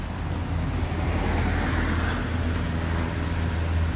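Toyota Sequoia from 2005-2007 running in neutral in 4 low with wheels spinning, a steady low engine and drivetrain drone with a broad hum, constant and moderately near, no talking.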